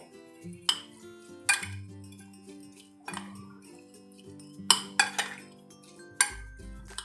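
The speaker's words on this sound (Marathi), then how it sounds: "आता आपण हे सर्व मिक्स करून घ्यायचं आहे" A spoon clinks and scrapes against a bowl in a series of sharp, irregular taps as boiled beetroot salad with roasted peanut powder is mixed, with soft sustained tones in the background.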